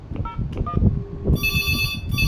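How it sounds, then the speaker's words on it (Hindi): Ringback tone on an Amada EPABX Max 11 trunk line, with repeated electronic ring bursts sounding clearly over low background room noise and no talk in between. "देखिए रिंग जानी शुरू हो गई है।"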